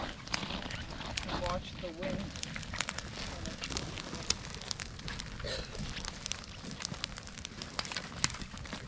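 An outdoor fire burns in the wind, with dense crackling and popping over a steady windy rush that stays close and fairly loud throughout, while voices can be heard faintly in the background.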